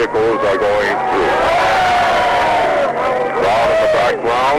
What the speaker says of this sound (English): Crowd in the background seem rather happy about the whole thing.